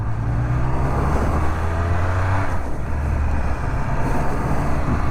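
A Triumph Speed Triple 1200 RS motorcycle rides on the road, its engine giving a loud steady drone with a brief dip in pitch midway, heard close with constant wind and road rumble.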